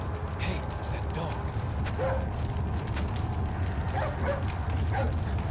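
A dog barks a few times in the Haunting Ground video game, mid-distance over a steady droning, mechanical ambience with faint creaks.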